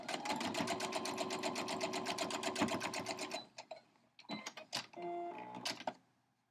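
A sewing machine stitches a seam through two layers of quilt fabric in a fast, even burst of needle strokes for about three seconds, then stops, followed by a few short clicks and handling noises.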